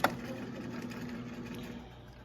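A sewing machine back tacks at the end of a seam on a romper, producing a steady, quiet mechanical hum that runs evenly and fades slightly toward the end.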